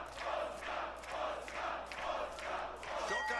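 A wrestling crowd at a Westside Xtreme Wrestling show in Germany cheers and roars steadily, swelling in repeated waves of loud, close crowd noise with shouting voices mixed in throughout.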